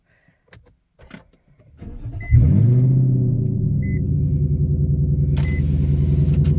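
An Infiniti M45's VK45DE V8, cold, cranks with a brief starter whir and catches into a loud, steady idle rumble through an open Y-pipe exhaust, preceded by a few faint clicks and handling sounds.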